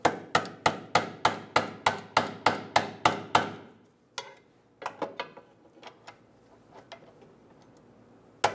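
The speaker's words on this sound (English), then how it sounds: "Using a pry bar and a hammer, we're going to tap the bolt out." About a dozen sharp metallic taps from a hammer driving a control arm bolt out of a 2011-2014 Hyundai Sonata, in a steady rhythm, then a pause followed by a few scattered, fainter knocks and one final hit.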